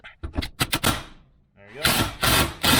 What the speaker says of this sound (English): So I'm gonna back this nut off.